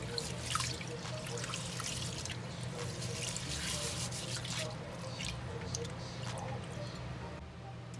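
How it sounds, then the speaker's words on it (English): Rice being washed in water before cooking Jamaican gungo (pigeon pea) rice and peas, with steady close sloshing, swishing and trickling that runs continuously throughout with no talking. "so after I wash the rice"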